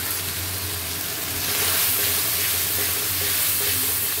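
Ginger, cumin, garlic, dry chili powder, salt and turmeric fry in a pan, sending up a steady close sizzle and hiss that swells slightly as the spices are stirred.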